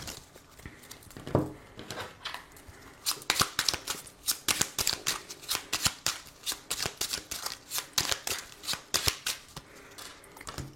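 Oracle cards being shuffled and cut by hand: a rapid series of crisp, papery riffles and slaps, close and clear, with no talking.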